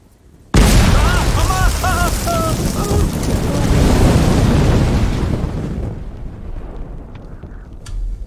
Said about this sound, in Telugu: ఇప్పుడు ఇక్కడ బాంబ్ పేలింది కదా